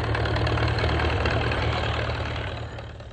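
An old steam-driven engine runs at a vintage machinery show celebrating California's agricultural past, giving a steady low, throbbing idle with dense mechanical chug that holds evenly, then eases slightly toward the end.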